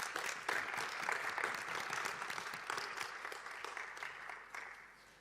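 Applause from the audience at a UNIDO General Conference session, a steady crowd of clapping hands that gradually tapers off near the end.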